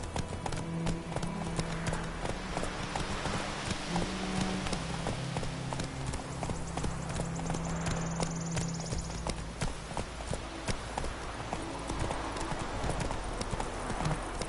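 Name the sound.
horse Roach galloping hooves, video game The Witcher 3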